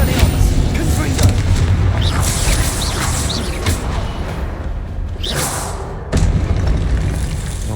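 Fiery Confringo explosion spell booming in Hogwarts Legacy combat, loud bursts and whooshes layered over dense game noise, with a player's voice calling out spells.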